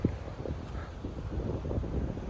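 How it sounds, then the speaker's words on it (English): Wind buffets the microphone in low, uneven gusts, a rumbling outdoor rush with no voices. "she's starting to get a wee bit windy"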